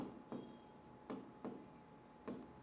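Chalk taps and scratches on a board as a teacher writes a word, a few short sharp strokes separated by pauses, quiet and close.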